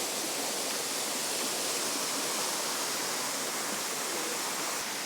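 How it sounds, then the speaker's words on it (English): A small waterfall on the way to Coal Creek Falls, running much faster than its usual trickle, gives a steady, dense, full roar of rushing water, close and unbroken, with no voices. "a slightly smaller fall which is on the way to Coal Creek Falls. I've never ever seen it flowing this fast."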